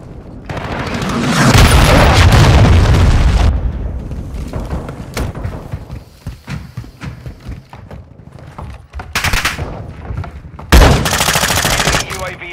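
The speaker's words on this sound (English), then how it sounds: "Hostiles launched a cruise missile." A heavy explosive blast rumbles loudly from a cruise missile strike in Call of Duty: Modern Warfare II, followed by scattered gunshots and impacts, then a second sharp boom near the end.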